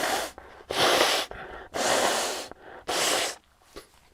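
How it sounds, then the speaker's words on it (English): Several forceful nose blows, four long bursts with short pauses between, close and loud, followed by a softer sniff. "I'm gonna have to blow my nose a couple of times"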